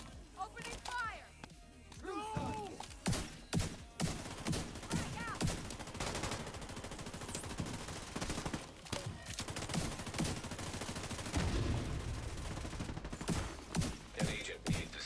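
Rapid gunfire bursts in a video game, loud shots mixed with in-game effects and voice lines, with a person speaking over the shooting.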